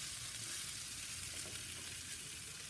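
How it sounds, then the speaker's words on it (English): Onions frying on a soapstone slab atop a Big Joe grill give off a steady, fairly quiet sizzle with a fine crackle running through it, constant across the whole span with no voices. "Now what we're trying to do here is just soften the onions up a bit"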